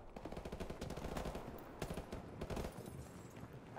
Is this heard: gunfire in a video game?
yes